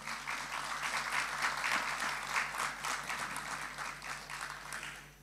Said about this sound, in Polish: Brawa dla pani Bożeny.